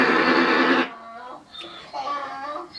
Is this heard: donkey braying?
yes